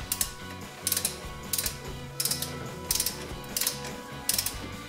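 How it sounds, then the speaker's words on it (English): A torque wrench ratchets in short repeated bursts of clicks while tightening a turbo water-line bolt during a DSM turbo swap, close and clear with steady mechanical clicking between pulls. "gonna go ahead and do this properly this time with the torque wrench."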